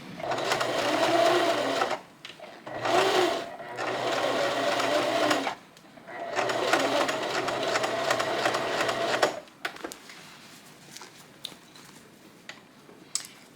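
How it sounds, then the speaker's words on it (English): A domestic sewing machine runs straight stitching in the ditch to hold a facing on a top, several steady whirring bursts with short pauses, then quieter fabric handling and small clicks at the end. "stitch in the ditch with a straight stitch just to hold the facing in the right place"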